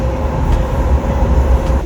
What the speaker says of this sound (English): still on the DLR from Lewisham, traveling towards Bank.